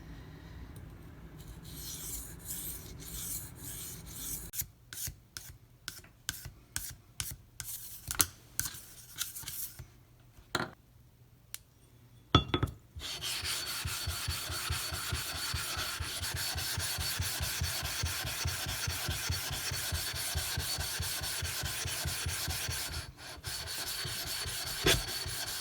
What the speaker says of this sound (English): the lapping of one of these stones with the Nano Hone diamond plate